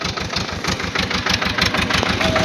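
A tractor pulling a plough at around 500 RPM in a field chugs under load, a close, rhythmic, throbbing diesel beat that stays steady and loud with no voices.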